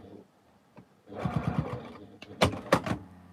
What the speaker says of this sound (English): you turn this round to your sewing machine, and you then stitch from the edge of the quilt onto it from there.